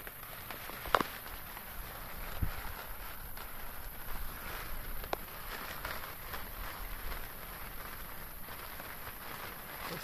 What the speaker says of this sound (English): You can hear the hailstones outside.